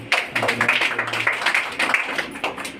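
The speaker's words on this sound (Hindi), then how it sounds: "और प्रभु की ये तालियां" Worshippers clap at a Sunday deliverance meeting in a church, a run of distinct, fairly rhythmic hand claps, close and moderately loud, with a low hum beneath.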